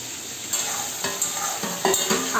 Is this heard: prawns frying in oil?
yes